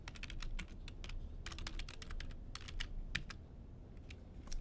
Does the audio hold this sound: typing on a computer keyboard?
yes